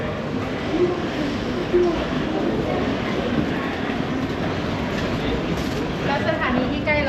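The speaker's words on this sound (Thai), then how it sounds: "8番乗り場に列車が到着します" A train pulls in at a platform of Tenjin station in Fukuoka, a loud steady rumble of rolling wheels and rail noise that fills the whole stretch, with faint voices in the background.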